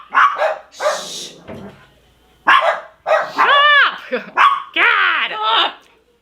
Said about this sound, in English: Those are damn dogs.